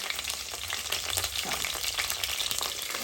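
Bay leaf and green chillies dropped into boiling hot oil for a country chicken curry, crackling in a dense, steady close sizzle with no talking.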